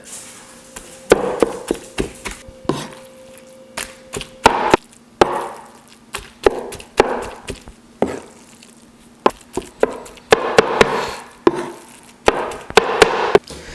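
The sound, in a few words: chopping cooked beef tongue and cheek for barbacoa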